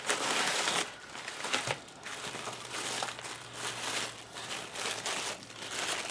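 Wrapping on an opened subscription gift bag crinkles and crunches in a loud broadband burst, then lighter intermittent rustling continues over a low steady hum, with no talking.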